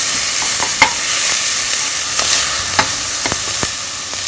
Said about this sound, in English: we'll saute the onions slightly